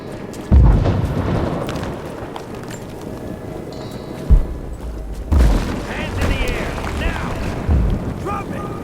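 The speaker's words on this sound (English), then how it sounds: "We've got gunfire! We've got shots fired! Gunshot!" Gunfire during a firefight in the video game Rise of the Tomb Raider, with a few sharp booming shots spread across the scene amid background game noise and shouting voices.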